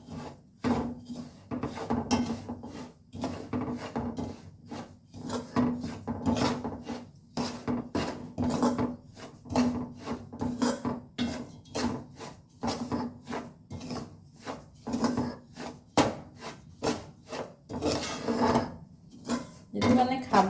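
A spoon stirs and scrapes a homemade sweet frying in ghee in a pan, giving a steady run of rasping, wooden rubbing strokes at close range.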